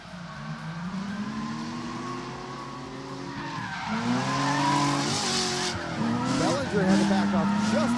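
A gray Nissan 350Z and a red Mustang drifting in tandem at a drift event, with loud sustained tire squeal and wailing, shifting engine tones. A commentator talks over the noise throughout.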